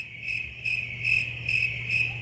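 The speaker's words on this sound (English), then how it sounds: "Crickets." Crickets chirp steadily in a rhythmic, pulsing trill, clear and alone against a quiet background, used as a comedic silence cue.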